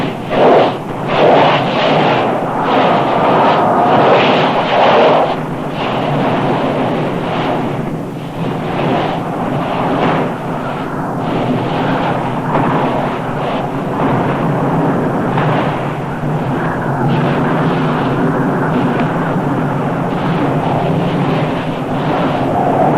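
Molten lava churning in the lava lake of Nyiragongo volcano's fire pit: a continuous loud, deep roaring rumble with surging swells, steady throughout with no voices.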